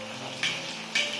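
Food fries in oil over medium-low heat for a spicy mala mix, a steady soft sizzle with two brief brighter bursts of crackle as it bubbles.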